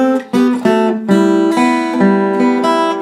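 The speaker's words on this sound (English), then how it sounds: "The little signature riff sounds like this." Guitar plays a signature riff, a bright, quick string of plucked notes in a bouncy rhythm, close and clear.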